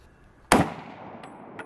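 M1 Garand rifle fires a single sharp, loud shot that cracks out suddenly and decays quickly, followed by faint metallic ticks.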